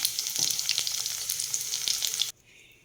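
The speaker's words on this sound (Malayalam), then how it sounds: "അങ്ങനെ എടുത്തു വെച്ച കോളിഫ്ലവറാണ് അത് പൊരിഞ്ഞ് വരട്ടെ" Cauliflower florets deep-frying in oil for gobi manchurian produce a loud, dense, close sizzle with bubbling crackles that cuts off abruptly near the end, leaving a faint quiet tail.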